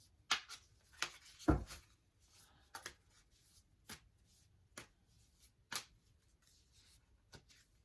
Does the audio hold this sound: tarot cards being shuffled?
yes